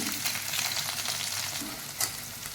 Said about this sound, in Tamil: அதோட ஒரு பச்சை மிளகா சேர்த்துருக்கேன் வெங்காயம் நல்லா வதங்கிருச்சு